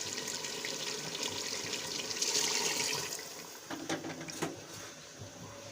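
Chicken stock (yakhni) poured into a pot of chicken and vegetable pulao, a quiet liquid splash and trickle that softens and tails off partway through, with small clinks near the end.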